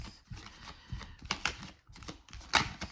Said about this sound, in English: So we're just gonna shuffle right on camera for this.